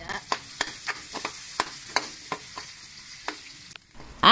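Garlic and ginger sautéing in a pan for tilapia paksiw, a steady low sizzle broken by sharp scraping stir strokes at irregular intervals, close and moderately loud, with a brief louder clatter at the end.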